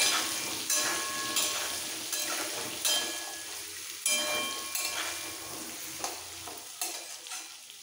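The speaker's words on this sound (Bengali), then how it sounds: "এবার আলুগুলোকে লাইট ব্রাউন করে ভেজে নিতে হবে।" Potato chunks frying in hot oil in a pan until light brown for a Punjabi dhaba-style aloo dum, a steady close sizzle broken by repeated scraping stirs every second or so, with no talking.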